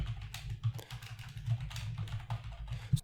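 Rapid typing on a computer keyboard while entering a terminal command, a steady run of light clicky keystrokes with a few louder taps, close and alone with no talk.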